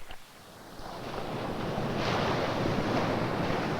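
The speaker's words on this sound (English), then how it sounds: "They continue traveling until they meet an obstacle, in this case, the shore of the lake." Wind-driven waves wash steadily onto a lake shore, a continuous broadband rush of surf that swells in loudness over the first seconds and holds, with wind buffeting the microphone and no voices.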